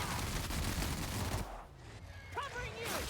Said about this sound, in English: reload and fire like crazy